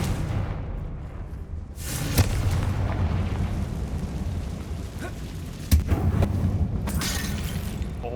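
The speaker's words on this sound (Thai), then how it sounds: "โอ้โหระเบิดต่อเนื่อง" A chain of booming blasts from the Confringo fire spell in Hogwarts Legacy, sharp explosions cracking out near 2 and 6 seconds over a continuous rumbling, crackling roar.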